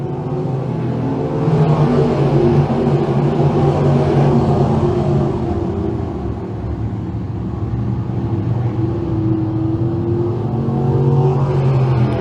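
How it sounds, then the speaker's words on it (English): Sprint cars from the Action Sprint Tour East Series race at Can-Am Speedway with a loud, droning engine roar that swells and fades as the cars pass along the front straightaway. "as he flashes by Speedy on the front straightaway"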